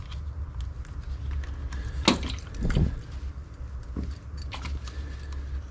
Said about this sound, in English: I will take this key ring here